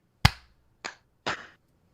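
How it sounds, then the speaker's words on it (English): Three sharp hand claps for syncing a podcast recording ring out one after another in a quiet room, the first loudest, the next two softer and slightly spread as the participants clap out of unison. "we're gonna do a sync clap"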